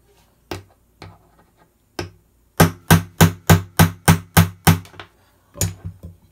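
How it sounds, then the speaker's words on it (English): A pin being hammered into the rounded gas nozzle assembly of a G&P M16A4 gas blowback rifle: a few isolated taps, then a run of nine sharp evenly spaced metallic blows, then a final short cluster, close and loud with no talking. "You're trying to hammer something in on a round surface."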